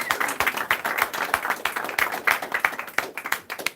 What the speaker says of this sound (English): let's give a round of applause for Yang curious